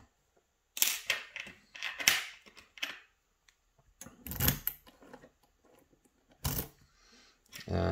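Keys turning in an Assa 600 lock that has been picked and gutted: several separate bursts of close, sharp metallic clicking, scraping and rattling, with short quiet gaps between them.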